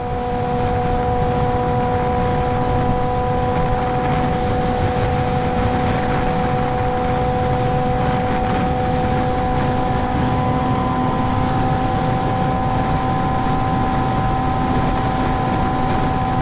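A wrecked Suzuki GSXR600 sport bike rides at speed in cold weather. Its engine gives a steady, high, tonal whine under heavy rushing wind noise, with no speech.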